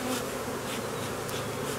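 Angry honey bees swarm around an opened hive, filling the air with a dense, steady, close buzzing that carries no speech.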